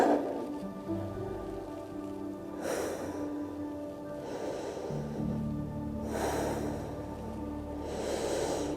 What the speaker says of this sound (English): Whew, I gotta catch my breath.